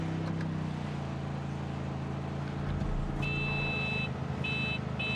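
A car horn sounds in the open-world shooter game Far Cry 6, a few short, bright honks in quick succession over a steady engine drone and ambient game noise.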